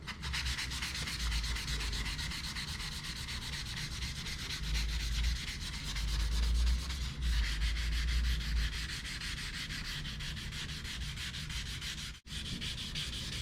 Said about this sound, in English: this is just a small sanding block and squeegee and the 1000 grit just right on top of it